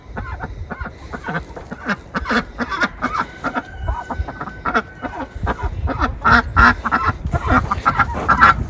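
A flock of ducks quacks busily and continuously in a new duck house, overlapping calls close by and growing louder toward the end, with faint rustling beneath.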